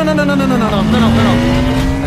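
A car accelerates hard during a chase, its engine tone rising steadily with a sustained squeal of tires, loud and close throughout the short burst.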